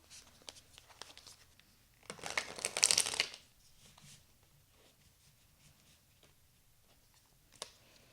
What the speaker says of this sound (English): let's give this deck a good shuffle